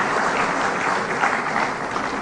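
Loud, dense applause from a crowd at a political speech, a continuous wash of clapping that fills the whole stretch without pause.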